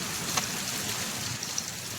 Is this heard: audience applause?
no